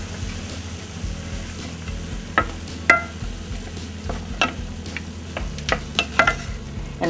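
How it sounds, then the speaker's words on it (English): Ground turkey and chopped green onions browning in a pan, a steady sizzle running throughout with sharp scraping stirs and clacks of a utensil breaking through every second or so. "And continue to brown and get that onion cooked."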